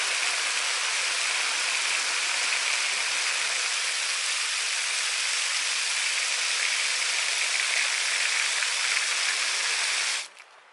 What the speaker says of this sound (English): So you just really give these a good soaking.